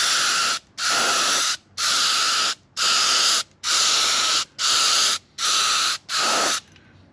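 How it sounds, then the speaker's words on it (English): A Critter spray gun spraying a thin finish coat onto a hand-routed wooden sign, eight loud hissing bursts of about half a second to a second each, separated by brief pauses, close to the microphone with no talking. "I'm using my critter spray gun"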